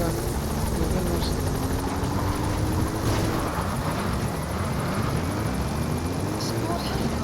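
A support helicopter arrives in a video game, its rotor and engine droning loudly and steadily throughout, with voices talking over the noise.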